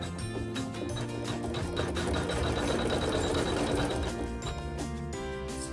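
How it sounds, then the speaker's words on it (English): A Navigator domestic sewing machine stitching a decorative satin stitch on fabric, a steady close mechanical whirring hum with rapid rhythmic needle clatter that pauses briefly and resumes, no talking. "the machine will sew a satin stitch"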